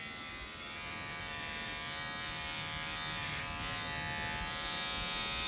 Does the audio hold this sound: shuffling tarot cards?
no